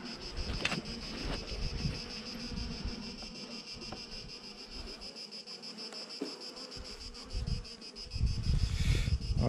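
Bees from an open hive colony buzz steadily and close by while frames are worked, a dense continuous drone with occasional louder passes near the end.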